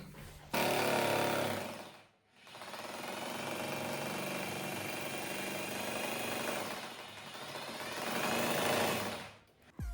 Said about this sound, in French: je vais donc percer à partir de là pour que ça se déchique de l'autre côté